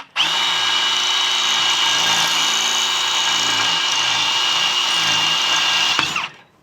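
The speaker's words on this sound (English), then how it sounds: "Let's go ahead and drill this in." A loud power drill whines continuously for about six seconds while drilling into concrete, then spins down and stops abruptly.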